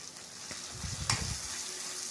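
Ginger garlic paste with tomato frying in a pan for Nellore-style boti curry, a steady close sizzle with a few soft stirring scrapes and a brief clatter midway, no talk.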